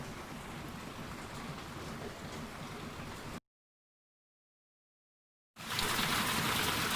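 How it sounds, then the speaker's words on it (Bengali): Heavy rain falls as a steady, dense wash of noise that cuts out for about two seconds midway and then returns louder, with no voices. "আজকে যে হারে বৃষ্টি হচ্ছে"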